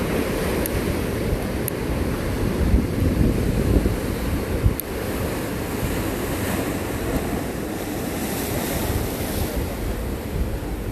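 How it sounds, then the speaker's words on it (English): Ocean waves crash steadily against the California coast, a broad roaring wash of surf with wind buffeting the microphone and no voices. "I like how the waves are crashing into that area."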